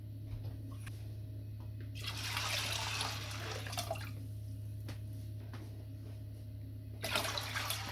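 Water and corn grain poured into a saucepan, a soft, continuous splashing trickle that swells twice, close up over a steady low hum.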